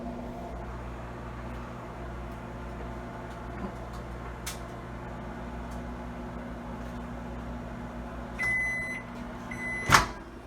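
Microwave oven heating an egg for a homemade Egg McMuffin: a low steady hum and whir running throughout, followed near the end by a few short electronic beeps and a sharp click of the door.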